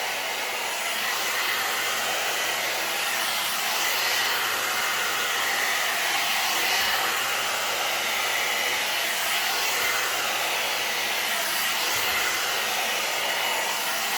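A blow-dry brush running continuously, a loud steady whoosh of airflow and motor hum with no voices.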